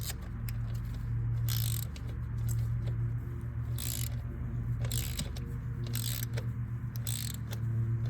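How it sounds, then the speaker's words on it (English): A torque wrench clicks and ratchets while tightening the valve cover bolts of a 2012-18 Ford Focus 2.0L engine, with repeated short bursts of ratcheting over a constant low hum. "then you can start with the torque sequence"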